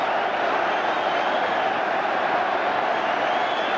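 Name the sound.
football crowd applauding at Arsenal v Spurs match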